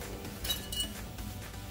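Metal brake pad clips from a 2012-2017 Audi A6 3.0T rear brake job clink lightly as they are handled, with a couple of quick bright taps over a quiet background.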